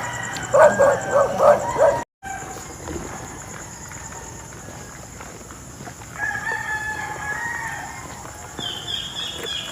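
A small dog yaps in a quick run of sharp barks early on during a bay walk, then quieter yips and bird-like calls over outdoor ambience.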